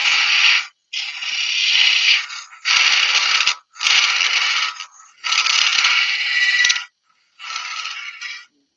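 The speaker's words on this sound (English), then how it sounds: "that cut is not the preferred or the best one for a spindle gouge" A spindle gouge cuts along the grain of a spindle blank spinning on a wood lathe, giving six loud, bright scraping bursts of about one second each, split by short pauses. There is no talk.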